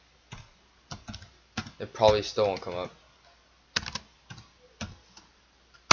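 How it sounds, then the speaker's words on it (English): Typing on a computer keyboard, with bursts of key clicks in short runs that are close and fairly crisp, interrupted by a person speaking briefly partway through. "I'm gonna type in the actual thing."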